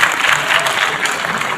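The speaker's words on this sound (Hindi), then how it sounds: "मैं चाहती हूँ एक बार आप उनके लिए ताली बजा दें" An audience applauds at a mushaira, a Hindi-Urdu poetry gathering: a dense, steady wash of clapping from a crowd, loud and continuous throughout the short stretch.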